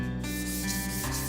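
Sandpaper rubs back and forth across a lacquer painting panel in Korean ottchil work, a close, continuous abrasive scraping with rhythmic strokes.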